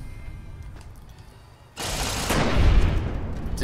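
Gunfire erupts in Fallout: New Vegas, a sudden loud burst of rapid shots that becomes a sustained, heavy roar with a deep booming swell partway through, heard up close with no speech.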